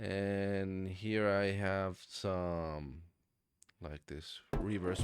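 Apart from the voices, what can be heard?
No everyday noises stand out.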